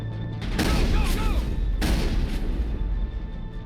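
Rapid gunfire in the Mass Effect video game, Noveria level, sharp bursts ringing out over a busy combat soundscape, loud and close, with two main volleys around a second apart.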